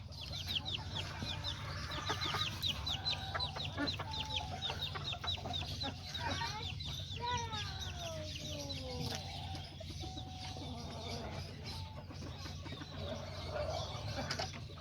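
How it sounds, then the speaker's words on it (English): A rooster and a small hen cluck and call close by, with repeated bird calls and chirps layered over a steady low background hum throughout. "over here, I also got this rooster and this little chicken"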